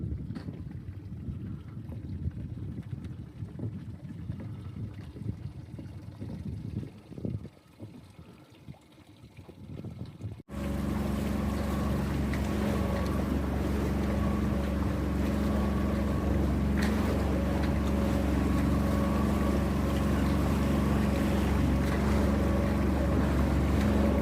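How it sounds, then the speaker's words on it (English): A sailing boat motors under engine power on a calm day with no wind, near the Mull of Kintyre. Wind buffets the microphone at first, then a steady loud engine drone takes over and runs on without a break. "There's no wind, so I'm having to motor."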